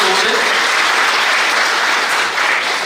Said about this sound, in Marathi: एकदा जोरदार टाळ्या मॅडमांसाठी